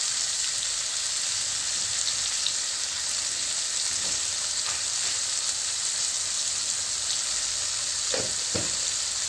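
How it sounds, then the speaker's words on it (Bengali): Chopped onions with salt frying in a pan for a chicken curry, a continuous close sizzle with a few sharp pops and crackles near the end, no talking. "আরো কিছুক্ষণ পেঁয়াজটা আমি ভেজে নেব"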